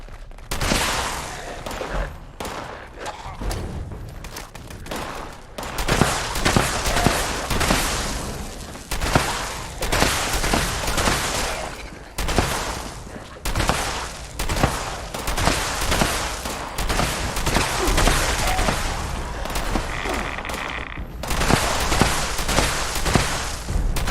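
Shotgun fire in Fallout 76, heavy booming blasts fired in rapid, irregular bursts over a dense, loud wash of game noise, with barely any pause between volleys.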